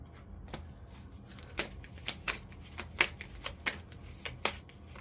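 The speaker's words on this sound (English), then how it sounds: "Oh, drop some cards here." Tarot cards shuffled and dropped by hand, a run of crisp riffling flicks and slaps repeating at an uneven rhythm, close and fairly quiet, with no talking.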